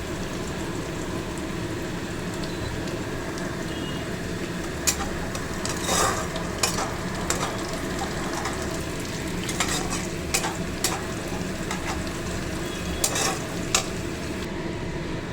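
Two eggs cracked over onions sizzle in a pan for fried rice, a constant crackling fry broken by repeated spatula scrapes and clinks.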